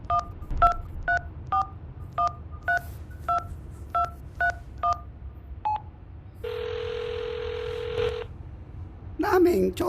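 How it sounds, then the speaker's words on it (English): Telephone keypad tones in the VR game Hitch Hiker as a number is dialed: about a dozen evenly spaced touch-tone beeps, then a steady ringback-style tone and a short burst of sound at the end, with no talking. "Dial the number."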